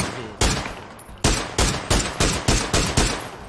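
Gunfire in PUBG: a single sharp shot, then a rapid series of seven loud, close shots in a quick, slightly uneven rhythm, each ringing briefly before the next.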